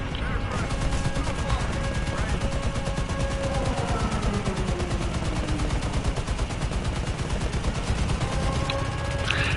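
Rapid continuous machine-gun fire rattles throughout in War Thunder, aimed at a plane, a dense steady burst heard up close with faint engine noise beneath.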